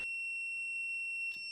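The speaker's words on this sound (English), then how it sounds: "If the screwdriver is on the positive pole, it beeps and shows a P on a red background." A steady high-pitched electronic beep from a KAIWEETS KTS02 voltage tester touching a positive pole holds throughout, clear and continuous, with a brief click near the end and no voices.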